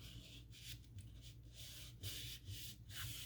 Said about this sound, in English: And you just give it a nice little back rub.